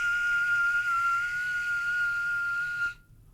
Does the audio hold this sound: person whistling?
yes